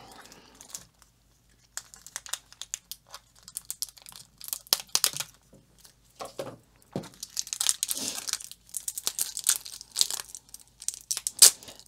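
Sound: unwrapping plastic packaging of diamond painting kits

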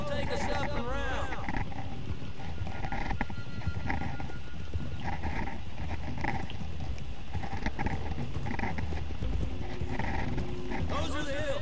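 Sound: horses riding in video game Red Dead Redemption 2

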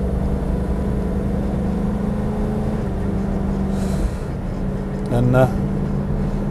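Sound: Triumph Stag automatic car driving

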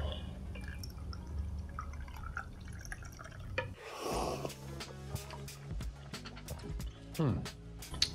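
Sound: pouring AeroPress coffee into a cup

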